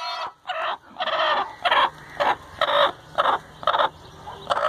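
A brooding hen sitting on eggs clucks loudly and close by in a steady series of about nine short, evenly spaced calls, with no talk over them.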